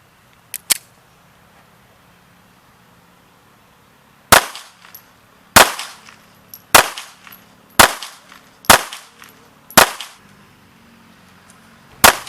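Gunshots from a Walther PP police pistol chambered in 7.65 Browning (.32 ACP), fired outdoors: two quick shots first, then a steady series of six sharp, loud reports about a second apart, each with a short ringing decay, and one more at the end.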